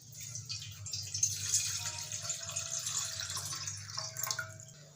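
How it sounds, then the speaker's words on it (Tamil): Water poured into a cooking pot, about three cups, while preparing Chettinad milk kozhukattai; a steady continuous pour with a low hum beneath, no talking. "அதில் ஒரு 3 கப் அளவு நம்ம தண்ணி சேர்த்துக்கலாம்."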